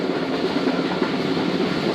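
Tezgam express passenger train running at around 100 km/h, a steady loud rumble and rattle of carriages rolling on the track, heard from inside with no talk.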